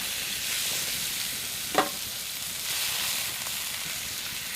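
A steak sears in olive oil in a pan on a camp stove, a steady broad hiss of sizzling fat broken by one brief knock near the middle.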